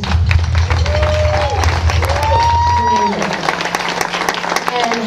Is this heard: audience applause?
yes